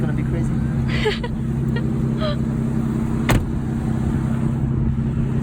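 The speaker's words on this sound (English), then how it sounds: "First time driving an Aston Martin" An Aston Martin car gives a steady, loud engine drone that holds evenly throughout, with faint murmuring voices in the background.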